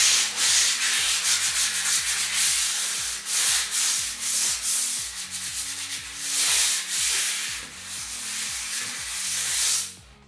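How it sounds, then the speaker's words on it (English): A stone-effect textured finish is lightly hand-sanded up close. The scratchy rubbing strokes come in a steady back-and-forth rhythm for about ten seconds with no talking. "is just give it a light sand."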